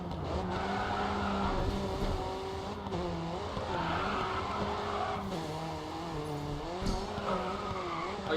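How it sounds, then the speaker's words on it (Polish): A race car in Grid 2 braking hard and skidding, with a loud steady engine drone, gear shifts and tire squeal running throughout, close and continuous. "Oj, zahamowałem i to ostro."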